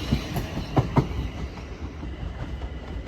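A train runs non-stop through Clapham Junction, a close, steady roar with rhythmic clickety-clack of wheels over rail joints and a few sharp metallic knocks.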